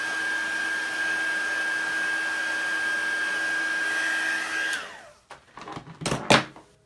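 A heat tool blows a loud, steady whine over stamped ink to dry it, running continuously for nearly five seconds before cutting off, followed by a few close knocks and shuffling handling noises.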